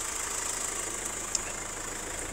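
A Renault Megane dCi 130bhp diesel with 137,000 miles idles steadily. The hum is even and continuous, with one brief tick partway through.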